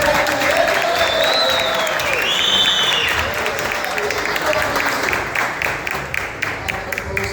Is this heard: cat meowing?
no